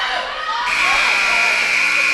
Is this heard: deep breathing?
no